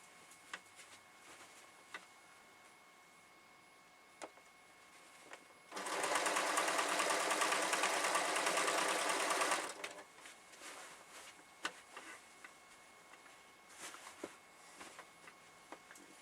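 A small domestic sewing machine with a 7-inch throat runs in one sustained burst of about four seconds while quilting a large quilt, set amid quiet handling clicks and ticks.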